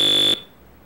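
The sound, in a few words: beeping sound effects in World Cup Carnival video game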